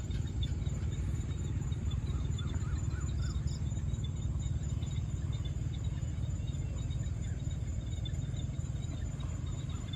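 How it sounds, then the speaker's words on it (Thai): Frogs and small toads calling at a Thai eel pond in the evening, a dense continuous chorus with insect-like trilling over a steady low rumble, no talking. "ได้ยินเสียงกบเสียงเขียดนะครับ"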